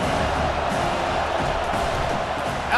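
Stadium crowd cheering in EA Sports College Football 25, a broad, continuous roar of many voices with a faint whistle-like tone at the very end.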